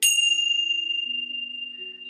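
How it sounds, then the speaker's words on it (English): Tibetan bells are struck once, giving a bright ringing strike that settles into a clear, sustained high tone, slowly fading over about two seconds with faint lower overtones. "I'm guided to intone the Tibetan bells."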